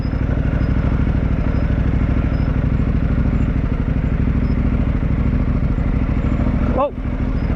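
Dual sport motorcycle on a Mitas E-10 Dakar tire, its mud-packed rear wheel spinning and roosting dirt; a loud, steady engine roar with clattering debris runs throughout, dipping briefly near the end.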